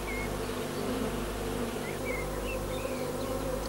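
A dense, steady buzzing of many honeybees in flight, a swarm leaving the hive with the old queen, continuous and fairly loud throughout, close by.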